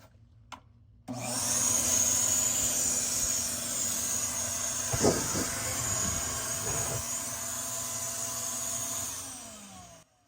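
Compressed air blasting lint out of a GE clothes dryer, a steady loud rushing hiss that starts abruptly, holds for about nine seconds with a few clunks midway, then cuts off.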